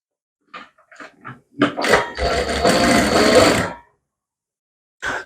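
A sewing machine stitches the side seams of a princess-cut blouse, one steady run of a couple of seconds after a few short handling knocks, with a brief noise at the very end.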